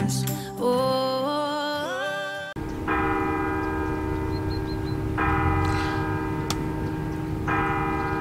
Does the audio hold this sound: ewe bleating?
no